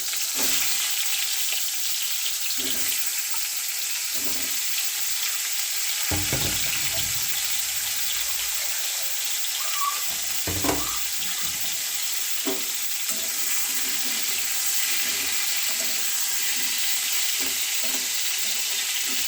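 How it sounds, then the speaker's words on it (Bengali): Pointed gourds (potol) rubbed with salt and turmeric, slit in places, sizzle steadily in hot mustard oil, a constant crackling hiss with occasional louder spits and soft stirring knocks. "সর্ষের তেল গরম হয়ে এসছে, এবার পটলগুলো ছেড়ে দেব।"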